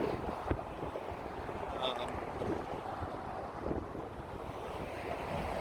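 Strong wind gusts buffeting a microphone on a high bridge platform, a loud, continuous rumbling roar with uneven surges throughout.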